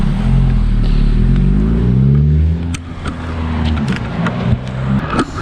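A 2020 Honda Civic Si fitted with a PRL Cobra cold air intake drives past outdoors, its loud engine note rising in pitch, then fading as the car passes and moves off.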